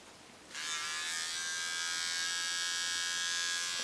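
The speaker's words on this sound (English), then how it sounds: "And then get your trimmer." An electric hair trimmer switches on with a sudden buzz and keeps up a steady, close, high-pitched drone while trimming a fringe, with no talking.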